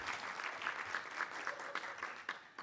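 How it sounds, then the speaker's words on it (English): Applause from an audience at a Métis Nation women's forum: steady, moderately faint clapping that swells and fades across the whole stretch, with no voices over it. "another round of applause for those amazing young people"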